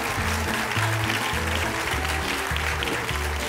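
An audience breaks into continuous applause, a dense, steady wash of clapping mixed with a low rhythmic musical beat underneath throughout.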